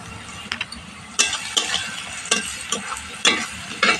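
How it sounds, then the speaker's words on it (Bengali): Food with salt being stirred and fried in a pan: a steady sizzle runs throughout, broken by several sharp scraping strokes of the spoon against the pan at irregular intervals, close and moderately loud. "আমার ভালোভাবে কষানো হয়ে গেছে"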